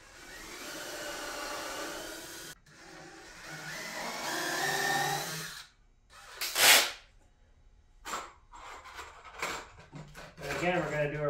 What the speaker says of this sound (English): I like to use my little countersink drill bit.